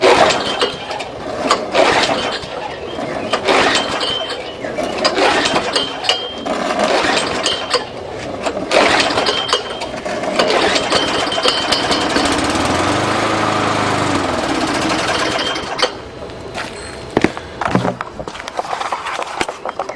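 A flooded Tecumseh small engine on a lawnmower runs roughly and loudly up close, with sputtering, uneven bursts and a steadier stretch of rattling drone through most of the clip.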